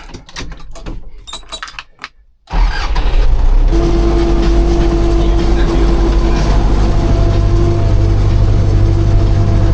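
After a couple of seconds of clattering and rustling, an MTZ tractor's engine starts up and runs loud and close, a heavy steady rumble with a constant droning hum that holds to the end.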